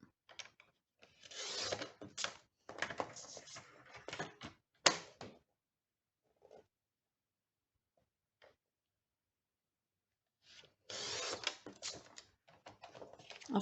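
Paper being cut diagonally while making a three-point card: bursts of crisp cutting and scraping, close and fairly quiet, broken by a long silent pause, with no talk.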